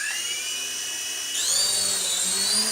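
Small 4DRC M5 4-channel RC helicopter lifting off, a steady high-pitched motor and rotor whine that jumps up in pitch and loudness midway as it climbs, close and continuous with no speech.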